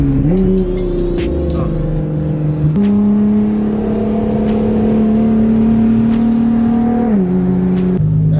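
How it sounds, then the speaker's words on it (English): A Nissan Skyline Hakosuka engine held at a steady drone, then shifting pitch as it revs while downshifting, loud and close from inside the car. "Downshift action right here."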